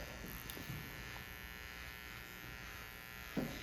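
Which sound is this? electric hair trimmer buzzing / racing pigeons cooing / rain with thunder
electric hair trimmer buzzing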